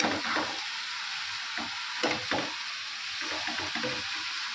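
Bottle gourd frying with spices in a pan as water is poured in, a steady hissing sizzle with a few short bursts of bubbling and stirring clatter, close and continuous, with no talk.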